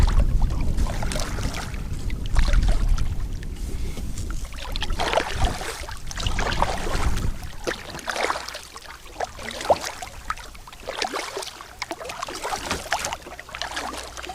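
A kayak moves across open water while trawling for fish in Glen Affric, with paddle splashes, drips and water lapping against the hull, close by and continuing without speech.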